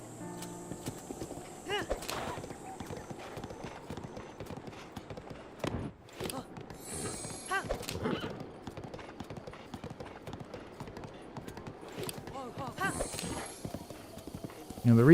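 A horse gallops in Breath of the Wild, its steady clip-clop hoofbeats running throughout alongside occasional snorts and a whinny, while someone talks over the sound.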